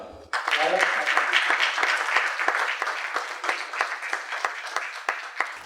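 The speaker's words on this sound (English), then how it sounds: "A huge round of applause once again." An audience applauds at an awards presentation ceremony, steady and fairly close, with individual claps standing out as the sound slowly thins and then stops.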